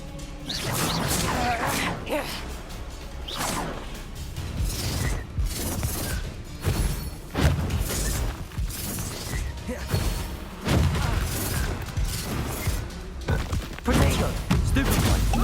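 Blasting-curse spell explosions in the video game Hogwarts Legacy: repeated loud crashing bursts and whooshing impacts, mixed with a voice shouting throughout.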